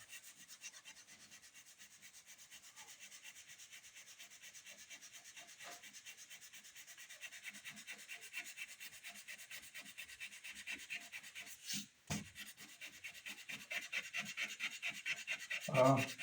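Steady rhythmic rubbing of sandpaper on Madagascar rosewood, a continuous scratchy sanding sound with a brief pause and a small knock near the end.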